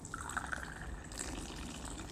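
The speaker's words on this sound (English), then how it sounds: "they have a special way to, by the way, pour the Moroccan tea" Moroccan tea poured from a height splashes softly into a glass, a faint, steady liquid stream with a few small drips and bubbling notes, heard alone without talk.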